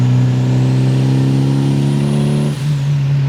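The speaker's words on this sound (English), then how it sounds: "You floor it, you get turbo noises." A 350-horsepower Honda Accord with a budget turbo conversion accelerates with a loud, steady engine drone that holds its pitch, then dips briefly as if shifting before pulling again.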